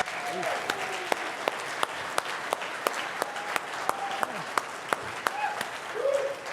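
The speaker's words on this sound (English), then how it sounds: "give a great round of applause for Mr." Applause from a conference audience for a speaker at a leadership conference, steady and moderately loud with scattered sharp claps standing out, filling the room throughout.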